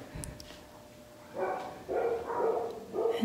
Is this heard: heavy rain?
no